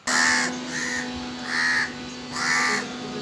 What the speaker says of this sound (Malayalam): ഇവിടെ കൂടാതെ കാക്ക എടുത്തിട്ടുണ്ട്.